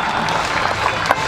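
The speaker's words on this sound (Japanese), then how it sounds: "拍手がだんだん大きくなってきました" Baseball stadium crowd at a Tokyo Yakult Swallows game, applause rolling as a dense, steady wash of clapping from a large crowd, fairly loud and continuous.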